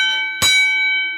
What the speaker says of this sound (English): I'm going to unhook the bells so it'll be a little less loud